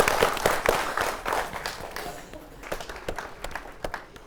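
Audience applause at an awards ceremony honouring women farmers, a crowd clapping steadily for about four seconds, with a few louder individual claps standing out near the end.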